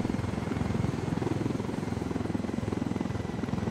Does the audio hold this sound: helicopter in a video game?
yes